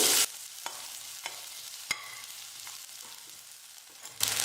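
Chopped onion sautéing in a pan, a steady soft sizzle broken by a few sharp scraping strokes of a spoon, close and fairly quiet, with a louder hiss at the very start and end.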